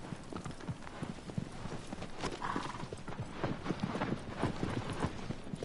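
A horse gallops across desert sand in the video game Shadow of the Colossus, its hooves pounding in a steady, rapid rhythm that stays close and even throughout, with a short whinny partway through and no talking.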